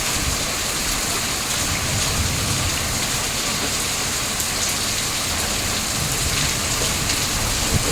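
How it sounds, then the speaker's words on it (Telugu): Heavy rain falls steadily in cold weather during a hailstorm, a dense, unbroken hiss of drops on surfaces that stays even and close throughout, with no voices. "కానీ చల్లటి వాతావరణంతో మంచి వర్షం పడ్డదండి."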